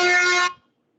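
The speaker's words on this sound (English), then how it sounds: "whoever has been running that air horn in the background" A single loud, flat air-horn blast holds for about half a second, then cuts off and fades into silence.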